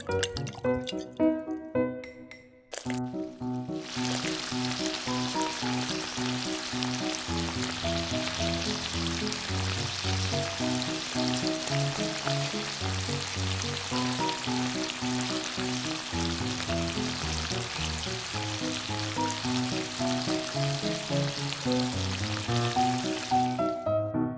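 Mini cheese bread frying in hot oil, a steady bright sizzle that begins after a short pause and holds for over twenty seconds beneath continuous background music.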